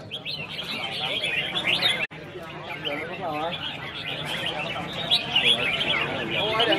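Red-whiskered bulbuls singing at a bird singing contest, dense overlapping chirps and whistled phrases from several birds, loud and continuous with a brief cut near the middle, and a crowd murmuring underneath.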